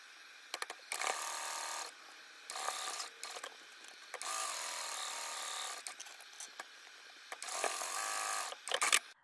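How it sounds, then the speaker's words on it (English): A sewing machine stitches a backpack lining pocket in repeated bursts of rapid mechanical whirring, separated by short pauses, loud and close, with no talking. "the sewing machine and stitch along this edge at a quarter inch seam allowance, only connecting it to the lining"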